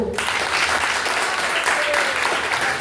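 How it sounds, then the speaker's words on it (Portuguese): Church audience applauding for the pastor during a children's service, a steady wash of clapping from a crowd that holds throughout, with a voice briefly heard over it. "Vamos dar uma salva de palmas para o pastor?"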